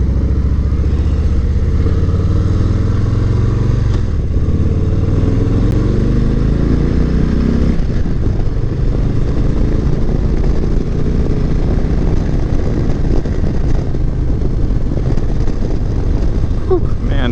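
2019 Harley-Davidson Low Rider ridden on the road, a loud continuous engine drone shifting pitch through gear changes, heavily mixed with wind buffeting on the microphone; a rider's voice is also present.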